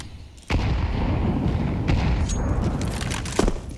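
Gunfire in Counter-Strike during a professional esports match, a dense, continuous barrage of booming shots and impacts from about half a second onward, loud and steady with a few sharper bursts.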